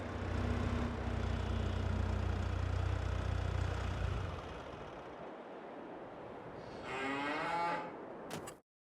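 Cattle in an organic milk open pasture in Farming Simulator 22 give a long, loud, low moo lasting several seconds, followed by a quieter murmur and a brief higher call near the end.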